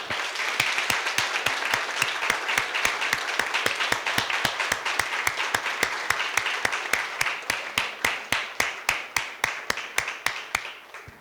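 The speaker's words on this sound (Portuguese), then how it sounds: "Vamos dar uma grande salva de palmas para Jesus." Audience at a Christian testimony gathering breaks into loud, rhythmic unison clapping, steady even beats that continue strongly for about eleven seconds with no talking over them.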